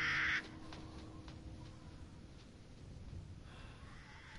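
A crow caws in Resident Evil Village, one short harsh call at the start followed by faint distant caws over quiet ambient wind.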